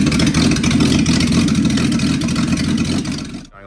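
A finished LJ GTR XU1 car engine runs loud and close with a dense, steady low rumble for about three seconds, then dies away abruptly.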